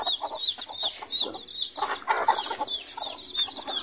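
Several hens cluck and cackle in busy, overlapping bursts, a steady stream of clucking from close by with no voices.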